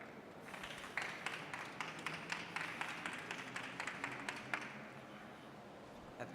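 An audience at an additive manufacturing industry panel applauds a speaker being introduced, a steady wash of many hands clapping with crisp individual claps poking through, fading out toward the end.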